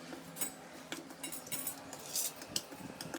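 A spoon scrapes and clinks against a bowl while mixing ground Punjabi garam masala spices, with light, irregular metallic taps and rustles, close and fairly quiet, growing busier toward the end.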